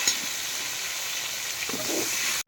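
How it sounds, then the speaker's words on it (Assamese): Pumpkin and potato pieces dry-frying in a pan for a chicken curry, giving a steady, close hiss of sizzling oil with faint stirring scrapes throughout and a brief cut near the end. "কোমৰা আৰু আলু এতিয়া ভাজি আছোঁ মই"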